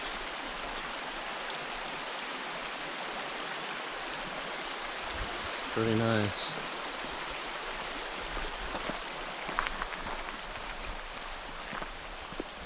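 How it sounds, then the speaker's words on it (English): Creek water rushes and splashes steadily along Slaughter Creek Trail near the Appalachian Trail in the mountains, a close, continuous broadband wash, with someone briefly speaking over it midway. "look at this creek."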